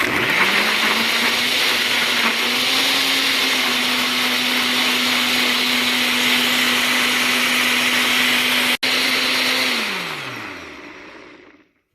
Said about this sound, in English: And I'm gonna blend it.